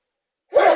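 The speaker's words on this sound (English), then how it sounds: "I'm going to sneeze" A single sudden sneeze bursts out after near silence, loud and close, with no talk around it.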